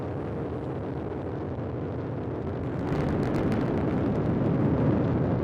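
A Falcon 9 rocket lifts off on the Crew-12 mission, its nine Merlin engines firing in a deep, dense, continuous roar that crackles and grows louder partway through.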